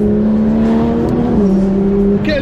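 A Porsche 911 GT3 RS of the 992 generation revs hard, its engine note holding high, then dropping sharply on a gear shift before climbing again, loud and close.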